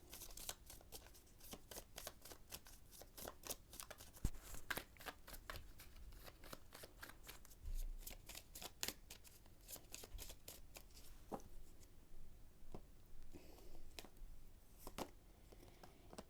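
Tarot cards are shuffled over and over, a quick run of crisp riffling snaps spread across the whole stretch, close and fairly quiet with soft rustling between the bursts.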